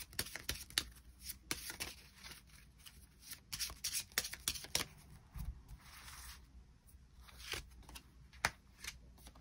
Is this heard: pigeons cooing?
no